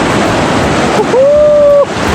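River water rushes beside the Ak-Suu hot springs in Kyrgyzstan, a loud, steady wash close to the microphone. A brief tonal whistle-like sound sits on top of it near the middle.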